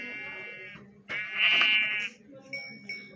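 Sheep in the Minecraft video game give two or three clear, close, nasal bleats separated by short gaps, and a faint voice and soft game sounds run underneath.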